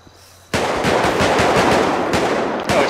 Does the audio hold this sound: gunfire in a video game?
yes